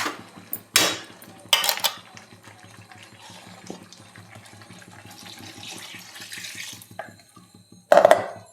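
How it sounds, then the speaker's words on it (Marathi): Water is poured into a thick village-style drumstick curry with black masala: splashing bursts near the start and end, with a softer sustained pour and clinking utensils between. "आता आपण याच्यात पाणी टाकून घेऊया"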